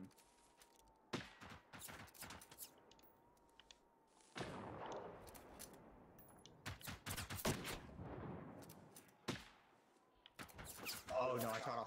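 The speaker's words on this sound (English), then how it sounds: "Oh, I shot off his gun." Gunfire in the video game Generation Zero comes in several loud bursts of rapid shots separated by quieter stretches of rumble and game ambience.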